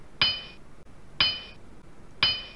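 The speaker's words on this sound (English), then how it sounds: "If we use a hammer," A hammer strikes a rock three times at even intervals of about a second. Each blow gives a sharp, bright metallic clink with a brief ringing tail, close and clear against a quiet background.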